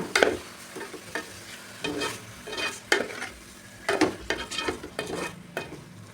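Dried red chillies are stirred in a frying pan over a soft sizzle, with repeated sharp scrapes and knocks of a spatula against the metal coming in irregular bursts, close by and without speech.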